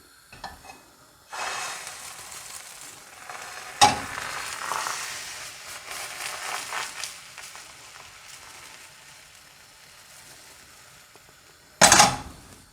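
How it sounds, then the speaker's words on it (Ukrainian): Hissing, crackling sizzle of thin egg omelette pancakes frying in a pan, steady at moderate volume, with a couple of sharp metallic clinks of utensils against the pan. "Розділяємо яєчну суміш навпіл та смажимо два тоненьких млинці."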